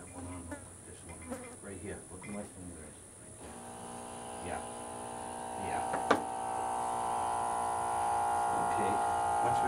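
A 12 volt milking machine on a farm starts up, its steady electric buzz and vacuum hum rising after a few seconds, with people talking over it.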